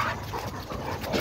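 Dogs at play, giving soft whimpers, yips and low grumbling noises close by over continuous scuffling and ambient noise, with no clear bark standing out.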